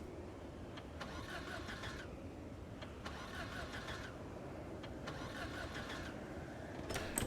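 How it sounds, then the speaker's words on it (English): Car engine in a zombie video game cranking repeatedly and failing to start, with several separate starter whirring bursts spaced a second or two apart over a constant low background hum. "Why are you not starting well? Like, is your engine damaged?"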